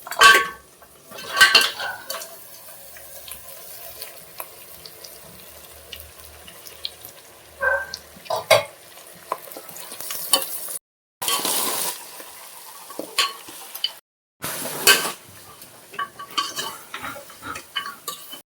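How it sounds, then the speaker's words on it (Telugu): Cooked goat head pieces go into a pan for Telugu-style curry and are stirred, with repeated metallic clatters and scrapes of a spoon against the pan and a few sharp knocks. "ఉడికించి పెట్టుకున్న ఈ తలకాయ ముక్కలు వేసుకుందాం."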